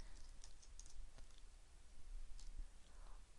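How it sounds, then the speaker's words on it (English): Computer keyboard typing while entering code in a Flex development environment, with soft, irregular key clicks in quick bursts at close range, fairly faint under a low background hum. "I am typing"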